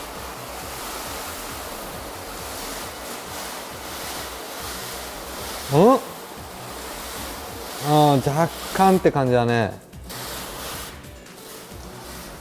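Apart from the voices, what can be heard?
water sprayed onto car with shower nozzle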